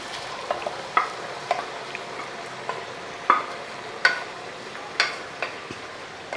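Cooked beef and its gravy stirred in a pan for Kerala-style beef mappas: a string of soft scraping clicks and spoon taps at an uneven pace, fairly close, over a faint steady simmering hiss, with no talking.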